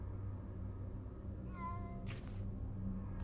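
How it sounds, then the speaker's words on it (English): A cat in a video game, somewhere in an attic, gives one short meow over a low humming background, followed by brief rustling bursts. "Quiet, cat."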